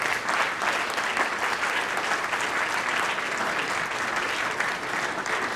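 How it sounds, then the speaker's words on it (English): Audience applause at a Dr. Martin Luther King Jr. birthday celebration in Meadville, a dense, steady wash of many hands clapping that holds evenly throughout. "So let's give them a round of applause."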